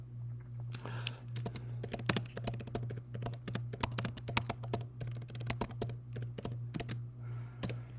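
Rapid, uneven clicking of keys on a computer keyboard, close up and fairly quiet, with a low steady hum underneath.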